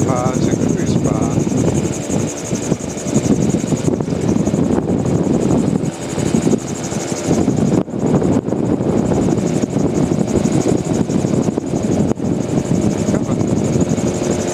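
Gyrocopter engine and propeller droning loudly and steadily through a training flight, the power held high at cruise with wind noise over the microphone and a voice talking throughout.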